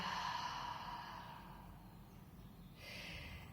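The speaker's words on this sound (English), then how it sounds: "allow the breath to seep out completely" A slow, complete exhale through the nose or mouth during a guided breathing and relaxation exercise, a soft airy breath that gradually trails off, heard close and alone with no talking.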